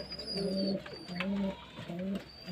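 Pigeons cooing while feeding, three rhythmic low coos close by in quick succession, with faint chirps in the background.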